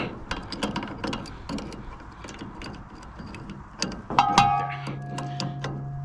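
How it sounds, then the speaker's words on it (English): A small wrench tightens a fitting during a pressure-washing truck build, giving close, irregular metallic clicks and ratcheting ticks, followed by a brief steadier mechanical tone near the end. "And then I am using the little wrench here."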